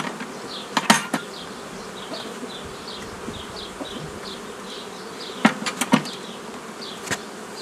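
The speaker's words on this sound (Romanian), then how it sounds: "Iau lada plină cu albina." Honey bees fly around a hive box during a hobby beekeeper's box swap, a continuous buzzing swarm with separate bees zipping past, punctuated by a few sharp wooden knocks and clatters.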